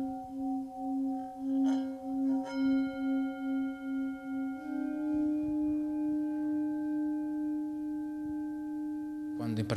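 A Tibetan singing bowl rings with a long, steady tone that pulses in a slow wobble, with a few light strikes along the way and a fresh strike near the end, close and clear.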